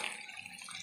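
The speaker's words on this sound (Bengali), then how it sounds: "আমার মশলা কষানো হয়ে গেছে, এবার জল দেবো।" Water poured into cooked masala for a raw jackfruit kofta curry, a brief, soft, continuous gushing pour heard up close and alone.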